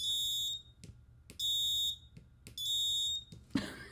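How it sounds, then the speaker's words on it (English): Piezo-style buzzer on a prototype internet-controlled Christmas ornament sounds three loud, evenly spaced electronic beeps, each about half a second long, with soft clicks between them and a brief rustle at the end. "so will it be the same for the buzzer?"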